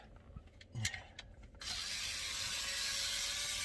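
A ratchet works dashboard screws loose while a BMW E60 head unit is being removed: a few quick close clicks, then a steady, louder mechanical rasp that runs on without a break.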